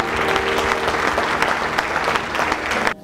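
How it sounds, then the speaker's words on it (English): Church congregation applauding high school and college graduates, a loud, sustained wash of clapping and crowd noise that cuts off abruptly just before the end, with no talk over it. "give them a big, huge round of applause"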